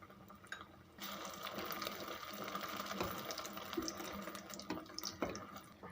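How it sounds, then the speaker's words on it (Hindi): Potato bread slices fry in a hot pan, giving a steady broadband sizzle that swells after the first second and holds through to the end, with small crackles scattered on top and no voices. "तकरीबन हाफ फ्राई हो चुके हैं, एक पीस फ्राई हो चुका है।"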